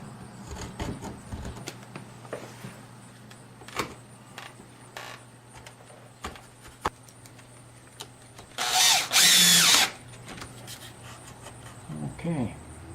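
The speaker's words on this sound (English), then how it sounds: "I'll just use a chisel to clean this up a bit so it seats properly." A chisel cleans up a door hardware recess on an entry door, with scattered sharp taps and light scrapes followed by one loud, harsh scraping pass near the end.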